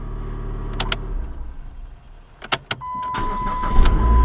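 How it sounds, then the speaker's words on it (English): Chrysler PT Cruiser engine starting and running after its battery is reconnected: a steady idle hum with a few sharp clicks and clunks over it, then a rising whine and louder engine rumble close by. "That's a good sound, even though it is a PT Cruiser."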